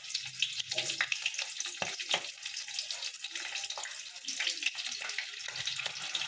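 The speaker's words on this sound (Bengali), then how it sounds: "দিয়ে একটু কাঁচা লঙ্কাটা ভাজা হয়ে যায়" Green chilies with five-spice tempering sizzle steadily in hot oil, a close, continuous frying hiss with small crackles and a few stirring scrapes.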